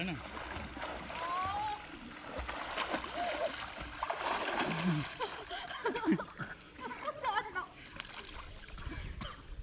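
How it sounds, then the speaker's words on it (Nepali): Scattered splashes and water sloshing from swimming strokes in a pool at a garden, faint and intermittent, with people talking and laughing nearby. "पौडी खेल्ने भनेको यसरी हात हाल्ने"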